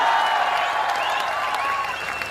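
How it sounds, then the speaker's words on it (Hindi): A political rally crowd in Haryana claps, a broad sustained wash of many hands while a voice carries over the top and trails along as the applause slowly fades. "ये बिना सुने ही ताली बजाना"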